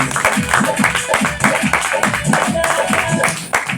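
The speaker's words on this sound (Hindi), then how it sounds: "ताली कर सकते कि नहीं करना चाहिए?" An audience claps along in a steady, rhythmic beat during a motivational seminar talk, loud and close, with a voice and music-like tones mixed in over the clapping.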